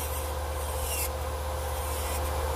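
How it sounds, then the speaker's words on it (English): AIRSEE rechargeable electric nail file running at 10,000 RPM, a steady close motor whine with a faint hum and a soft gritty rubbing layered on top, continuous and even throughout. "I'm having no bogging down of the Efile. It's not stopping."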